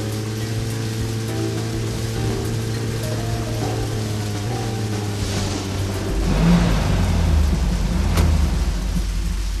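Engine drone of a car driving in the video game Deadly Premonition, a steady tonal hum that shifts pitch, then gives way to louder rushing rain or road noise in the second half.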